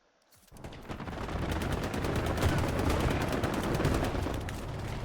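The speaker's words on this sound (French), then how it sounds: "ça nous tire dessus quand on descend la colline" Heavy gunfire in the WWII shooter game Hell Let Loose, dense overlapping rifle and machine-gun bursts rattling continuously after a brief quiet start, loud and sustained.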